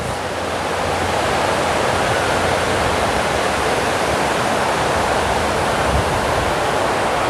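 Water pouring and cascading down the stepped pools of the Fort Worth Water Gardens, a loud, constant rushing roar that fills the space without pause.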